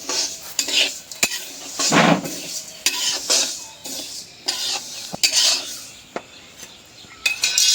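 Khesari lentils are stir-fried dry in a pot with a metal spatula, making repeated loud scraping sweeps and clinks in an irregular rhythm under a light sizzle, close up with no voices.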